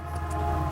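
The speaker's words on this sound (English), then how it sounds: "That's the 6 o'clock train" Steady low rumble of a passing train heard from inside a garage during a BMW 4 Series car speaker installation, a continuous droning hum with a faint tonal horn-like quality.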